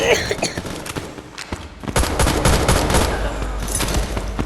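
Rapid bursts of automatic gunfire and thumping impacts in a shooting video game, dense and loud throughout, with voices talking over the shots.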